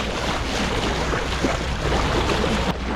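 A sailboat motors under engine across a calm sea with no wind, passing a port-hand channel marker; a steady, close broadband rush of engine, hull and water noise runs throughout with no voices.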